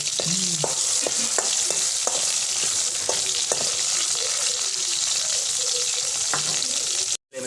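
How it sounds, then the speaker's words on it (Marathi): Ground masala paste hitting a hot pan in a Marathi home kitchen, a steady close sizzle with repeated spoon scrapes and taps stirring it through, no talk over it. "मसाला टाकतोय वाटलेला मसाला"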